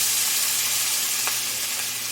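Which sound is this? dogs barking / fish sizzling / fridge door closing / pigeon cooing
fish sizzling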